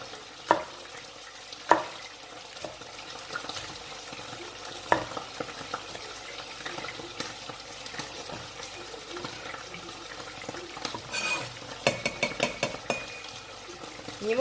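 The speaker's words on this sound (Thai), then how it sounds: "เสียงปลาส้มเดือดปุ๊บปั๊บปุ๊บปั๊บ" Quiet sizzling and bubbling from fermented fish frying in oil, with occasional clinks and stirring scrapes, steady and close.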